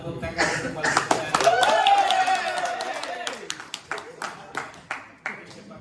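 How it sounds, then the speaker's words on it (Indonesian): A small group claps for Pak Lisa at a gathering, the claps starting mixed with talk and light laughter, then thinning into sparse, separate claps near the end. "Tepuk tangan untuk Pak Lisa."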